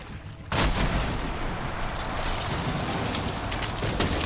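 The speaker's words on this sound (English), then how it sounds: "That explosion, man." A loud explosion from the video game Medal of Honor Warfighter bursts in after a quiet half second, followed by a sustained rumbling roar of debris and gunfire-like crackle that lingers.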